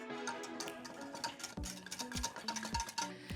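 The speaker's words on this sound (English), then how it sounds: "Give this a little whisk." Buttermilk mixed with seafood seasoning and chipotle powder is whisked in a bowl, giving a quick, irregular series of close clinks and taps of the whisk against the bowl.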